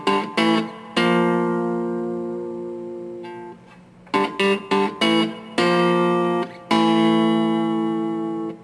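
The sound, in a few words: blues guitar lick, Law and Order theme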